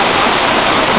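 Pedra Lisa waterfall, a dense, steady rush of falling water heard up close and loud without pause.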